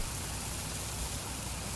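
Steady rain in Farming Simulator 19 on a farm in a wintry spell, a dense, even hiss that stays constant throughout with no voices.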